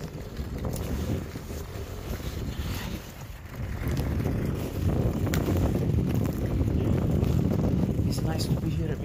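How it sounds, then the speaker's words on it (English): Strong wind buffets the microphone beside an expanding lava field near an active volcano, a loud continuous broadband rumble that gusts harder in the second half, with faint voices now and then under the roar. "It was very windy that day"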